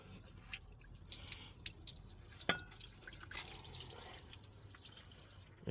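Coolant drips from the engine of a Renault Express 1.1 into a drain pan during a coolant flush, faint irregular drops and splashes over a quiet background hiss, with one sharper drip partway through.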